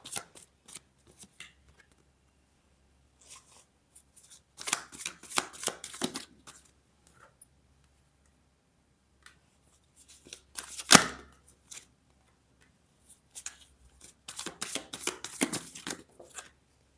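Tarot cards are shuffled by hand in three separate bursts of quick, crisp riffling with a sharp snap in the middle, close and fairly quiet, with silence between them.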